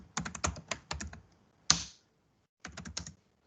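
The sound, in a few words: typing a gdb command on a computer keyboard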